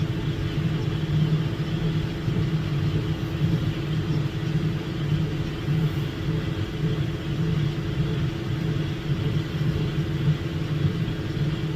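A John Deere 6125 tractor runs at a constant pace with a deep, even engine rumble and drone that holds steady and unbroken throughout, close by.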